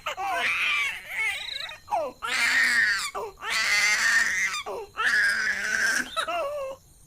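A baby wails in a Hindi horror story, four loud, strained crying bursts separated by short gasping pauses, close and alone without talking.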